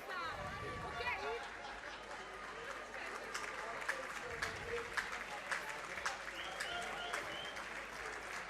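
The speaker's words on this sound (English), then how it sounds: "a round of applause for Lucia Guy." Crowd applause ripples through the stands at a women's Six Nations rugby match between Italy and Ireland, a steady moderate clapping that carries on across the whole stretch while a commentator keeps talking over it.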